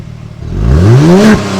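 A 2024 Genesis G70's 3.3-liter twin-turbo V6 is revved hard close by, its tone climbing quickly to a loud peak, then dropping back and settling.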